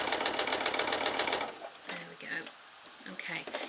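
Domestic sewing machine stitching along a Parrs quilting ruler at a short 1.4 stitch length, running as a fast steady mechanical chatter for about a second and a half, then continuing in shorter uneven bursts, close up.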